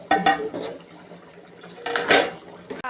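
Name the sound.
opening the cooking pot of potato palya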